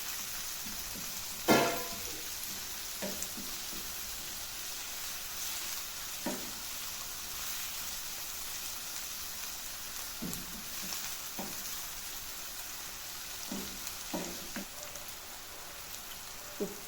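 Onions and masala-marinated chicken sizzle softly in a pan while being stirred together, a faint continuous frying hiss punctuated by scattered spoon scrapes and taps.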